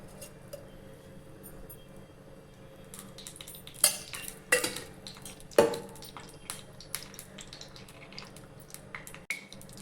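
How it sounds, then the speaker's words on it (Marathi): A small pan set on the stove and a spoonful of ghee added for a tempering, heard as metallic clinks, spoon taps and clatter of cookware in a few bursts against a quiet background, close by, no speech. "आता मी इथे एक पॅन ठेवलं आहे छोटं त्याच्यात एक चमचा तूप घालते"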